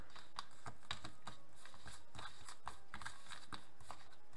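A tarot card deck being cut and handled by hand, giving a close, quiet run of soft irregular clicks and papery taps, roughly a dozen in four seconds, with no voices.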